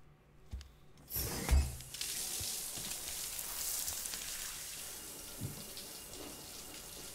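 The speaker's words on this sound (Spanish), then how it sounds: "La ducha es obligatorísima." A shower runs in the video game Death Stranding: a few sharp clunks, then a steady hiss of falling water that continues at moderate level and stays quiet and close.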